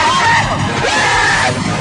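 Two men on a slingshot amusement ride scream hysterically and without letup, a loud, dense wall of yelling with crowd noise mixed in and no pauses.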